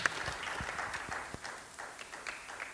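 Scattered audience applause in a conference hall at a plenary session, a light patter of claps at moderate distance that thins out toward the end.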